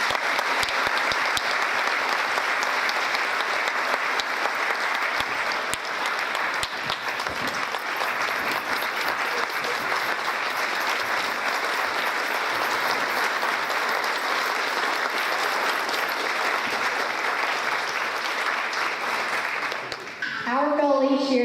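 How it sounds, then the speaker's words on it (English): Sustained loud applause from a ceremony audience honoring 2015 Teacher Hall of Fame inductees, a dense, even wash of clapping lasting about twenty seconds before fading out, with a voice starting to speak at the very end. "Let's give them another round of applause."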